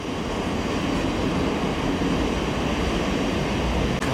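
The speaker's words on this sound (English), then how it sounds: "How long's this train?" A long train rolls past close by on a British railway line, a loud, steady, unbroken roar of wheels and carriages with no voices over it.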